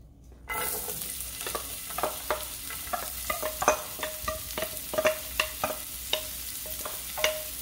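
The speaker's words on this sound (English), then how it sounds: "We're going to stir this until it turns translucent." White onion sautéing in oil in a pan, a steady sizzle broken by repeated scraping stir strokes at an uneven rhythm, close and fairly clear with no voices.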